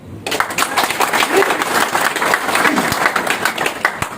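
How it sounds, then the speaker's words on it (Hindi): A burst of enthusiastic applause from an audience, dense steady clapping that starts abruptly and continues throughout. "जोरदार ताली"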